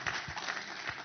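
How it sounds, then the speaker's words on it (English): An audience at a conference event breaks into applause, a brief, fairly faint spatter of clapping in a large room. "On peut applaudir."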